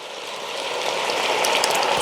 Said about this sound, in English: Now I'm gonna add in a whole can of diced tomatoes. That's the tomatoes in their juices. Pour that directly into the pot.